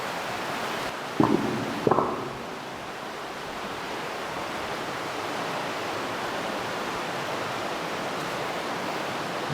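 Rushing river water near a hidden waterfall, a steady broadband roar that fills the whole stretch, with two brief knocks or scrapes early on.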